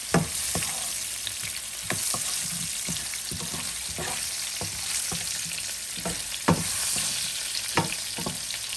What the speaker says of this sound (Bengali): আমার আলুটা অনেকটা ভাজা হয়ে গেছে